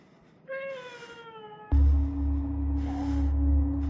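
A cat meows once in a long, drawn-out wavering tone in the video game Conarium, then a deep, loud droning rumble takes over with a faint second call buried beneath it.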